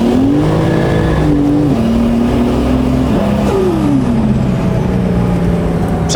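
Nissan Skyline fitted with a Toyota 2JZ engine accelerating hard, a loud close-up engine roar rising through the revs with gear changes, continuous throughout.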